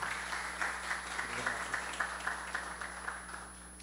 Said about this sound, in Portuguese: Uma salva de palmas ao nosso palestrante.